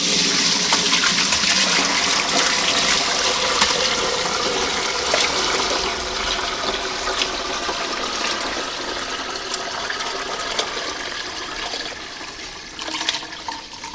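Bone broth stock is poured and strained through a colander in a kitchen sink, making a loud continuous gushing splash that tapers slightly over about fourteen seconds.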